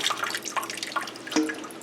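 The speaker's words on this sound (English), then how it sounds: "dump that out, dump the water." Water splashes and drips in quick bursts, like liquid being poured out into a sink, fairly quiet and close.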